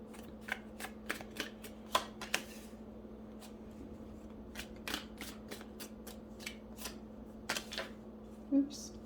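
Tarot cards being shuffled close up: a run of quick, sharp riffling flutters and snaps in uneven bursts over a low steady hum, fairly quiet overall.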